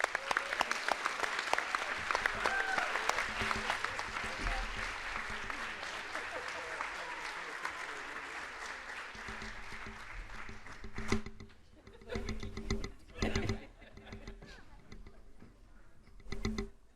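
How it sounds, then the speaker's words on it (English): Sustained audience applause at a graduate school alumni banquet, dense clapping for about eleven seconds, then fading into scattered claps with quieter gaps. "Please join me in giving me a round of applause to Julie."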